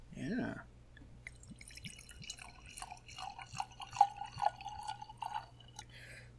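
Sake poured into a wine glass, heard as soft dripping and a thin liquid trickle that builds into a steadier pour, quiet and close, with a low steady hum underneath.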